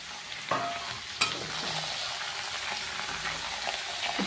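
Marinated chicken frying with lightly browned onions for chicken kosa, a close steady sizzle broken by a few sharp clanks of stirring.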